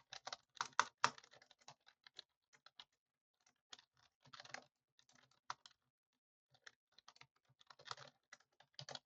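Someone types Python code on a computer keyboard, with quiet clusters of rapid keystrokes broken by short pauses and no talking.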